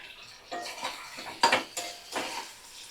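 Masala with ginger-garlic paste, cumin and green chillies being stirred and fried with potatoes in a pan, giving a few scraping, clinking spoon strokes against metal with soft sizzle between, close and fairly quiet.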